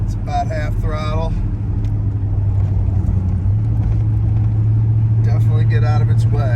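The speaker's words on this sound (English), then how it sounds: "It's about half throttle." A 1978 Chevrolet El Camino SS with an LS engine rumbles at about half throttle, a loud, steady low drone with a rising tone running under a voice at the start and end.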